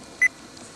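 A single short electronic beep from a barcode scanner, clean and steady, sounding once against a quiet background hiss.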